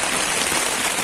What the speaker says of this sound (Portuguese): Olha esse barulho de chuva.